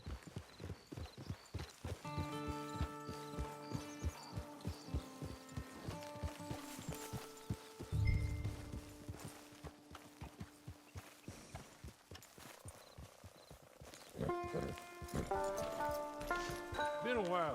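Horse hooves clip-clop in a steady, rapid rhythm through Red Dead Redemption 2, joined by a whinny, with orchestral music and occasional talk layered over the hoofbeats.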